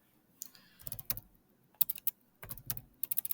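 Keys clacking on a computer keyboard in quick irregular bursts with short pauses between them, close and fairly crisp, with no voices.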